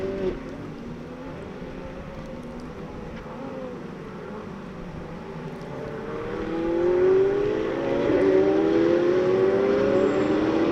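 A Ferrari Challenge race car from the Trofeo Pirelli series at Circuit of the Americas drives through a corner and then climbs up through the gears. The engine note rises steadily, growing louder toward the end, with no talk.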